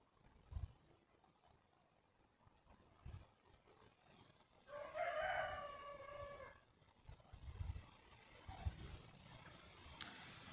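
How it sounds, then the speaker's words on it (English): A rooster crows once in the distance, a drawn-out call rising over quiet outdoor park background with faint scattered knocks and thumps. "Can you hear the rooster?"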